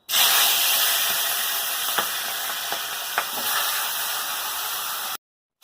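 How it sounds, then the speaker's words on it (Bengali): Fish heads frying in hot oil in a kadai, a loud steady sizzle and hiss throughout with a few sharp pops, heard alone with no talk. "তেল গরম হয়েছে, মুড়াগুলো ভেজে নেব"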